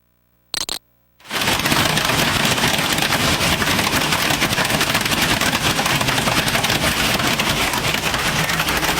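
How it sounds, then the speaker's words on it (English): Heavy hail pelts down in Nebraska in the early morning, a loud dense clatter of countless impacts that begins abruptly after a brief moment and continues unbroken, with no talk over it. "Some serious hail coming down in Nebraska early this morning."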